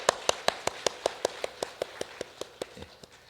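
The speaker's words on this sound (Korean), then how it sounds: "우리 힘차게 격려하며 박수하겠습니다." A church congregation at a Sunday worship service claps for a visiting lawmaker: a steady run of about fifteen sharp, evenly spaced claps, close and clear, slowing slightly and thinning out toward the end, with no talk over it.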